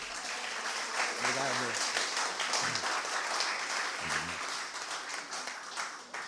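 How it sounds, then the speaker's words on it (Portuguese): Audience applause in a conference room for a geologist, steady broadband clapping throughout, with someone speaking briefly over it. "Uma salva de palmas para ele."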